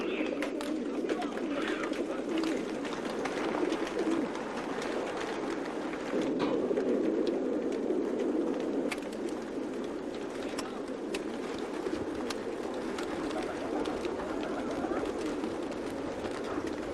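Caged racing pigeons, held for several days by bad weather before a race, coo and rustle in a steady dense chorus, with broadband flock noise continuing throughout.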